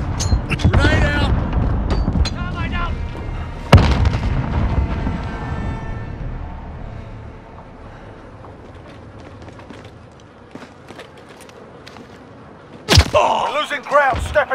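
Grenade explosions and gunfire in the Call of Duty Modern Warfare video game: loud booming blasts open and recur midway, then fade to a low rumble before another sharp burst of fire near the end, with voices talking under the action.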